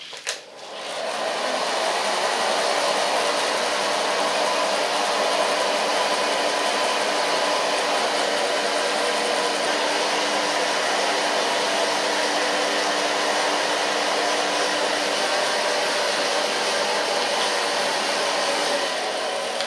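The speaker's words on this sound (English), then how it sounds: "I'm just going to blow dry it in a natural way, so I don't need the brush." A hair dryer runs continuously, blow-drying short hair in a salon, a loud steady close whoosh with a faint motor whine that holds at an even level for the whole stretch.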